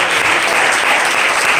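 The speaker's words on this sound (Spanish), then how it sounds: "Denle un aplauso." A church congregation bursts into loud, dense applause during a sermon, a short, full burst of many clapping hands close by.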